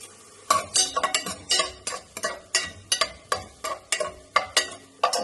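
Large onions being sautéed in hot oil in a pan for a quick chicken curry, with a run of sharp, regular stirring scrapes and clinks of a utensil against the pan over a low background sizzle, no talking.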